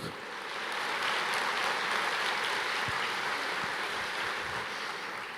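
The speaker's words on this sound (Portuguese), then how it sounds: "Pode aplaudir o Senhor." A congregation applauds the Lord in a church, with dense, continuous clapping building over the first second and then holding steady, with no voices rising above it.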